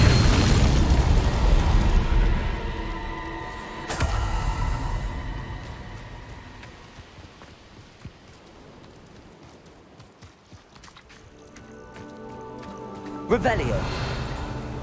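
A Bombarda explosion spell cast in the video game Hogwarts Legacy bursts in a loud boom at the start, followed by fading debris and quieter game sounds, then another sharp blast near the end.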